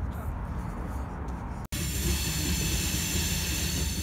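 A short freight train of about eight cars passes close by in Arizona, a steady loud rumble and rail roar filling the whole stretch with only a brief dropout.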